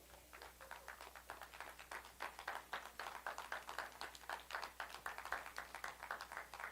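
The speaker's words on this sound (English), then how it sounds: "Give God a hand clap of praise." A church congregation claps in praise at a sermon, rapid fairly even hand claps repeating throughout, moderately distant and without talk.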